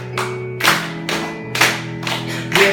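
Congregation at a church service clapping along with a praise song: rhythmic claps land about every second over sung voices and sustained musical tones.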